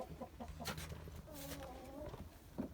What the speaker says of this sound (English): Got a silly hen who thinks she's lying.